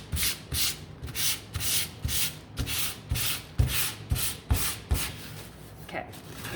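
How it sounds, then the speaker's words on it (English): Small wooden door hanger pieces are sanded by hand in quick, even back-and-forth strokes, a close rhythmic scratchy rubbing that repeats about twice a second with nothing else heard. "Now I'm just going to give them a sand."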